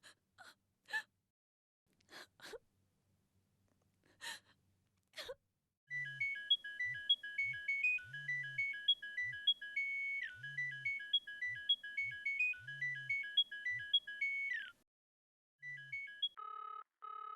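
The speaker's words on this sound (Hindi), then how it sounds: "फोन उठाओ, फोन उठाओ" A melodic phone ringtone plays a repeating electronic tune for several seconds, preceded by sharp gasps and breaths, then a short pause and another ring.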